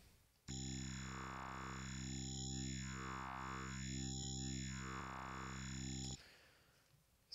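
A wavetable synth tone in Serum, built from a Massive wavetable, holds one sustained buzzy note while its timbre sweeps back and forth in slow cyclic morphs, starting and stopping abruptly, alone.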